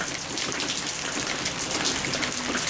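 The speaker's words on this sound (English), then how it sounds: "It is raining." Steady rain pouring down outdoors around a smoker cooking a prime rib, a dense continuous patter of drops on surfaces filling the whole stretch, close and even, with no voices.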